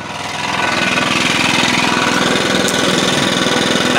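Stihl BR 600 backpack blower engine starting cold, then running steadily loud and close with a rough, rapid two-stroke pulse for the whole stretch.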